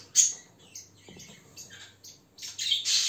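Pet Japanese bengalese finches in a cage with parents and chicks, giving sharp high squawks and short chirps in scattered bursts, close by, with a soft rustle midway and no talk.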